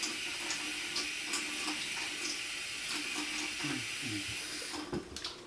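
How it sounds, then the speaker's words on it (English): Tap water runs steadily to cool a thermoplastic mouthguard strap, a continuous close hiss of flowing water with small splashing changes as the plastic is held under the stream. "So let's put the water on, cool that plastic off."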